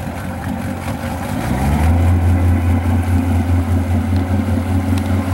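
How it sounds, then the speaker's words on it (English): A 2005 Rinker Captiva 282 boat's throaty engine revs up and settles into a loud, steady rumble with a slight pulsing rhythm. "Nice sounding engine."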